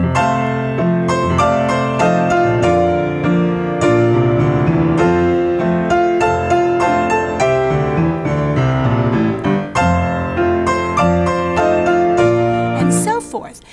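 Full piano hymn accompaniment, chords in the right hand over rolling tenths in the bass, played steadily and loudly for several bars with no voices.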